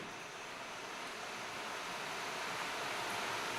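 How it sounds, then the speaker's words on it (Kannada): Heavy rain pours down outside in a dense, unbroken hiss that stays level throughout, with no talking. "ನಮಗಿಲ್ಲಿ ಈಗ ಜೋರಾಗಿ ಮಳೆ ಬರ್ತಾ ಇದೆ"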